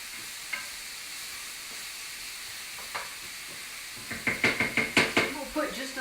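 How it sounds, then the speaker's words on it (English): Tomatoes, onions and garlic sautéing in a pan for okra and tomatoes, a steady sizzle and hiss with a few faint stirs, then a run of closer scraping stirs over the last two seconds. "we're going to saute the tomatoes and onions and garlic and all together before we ever add the okra"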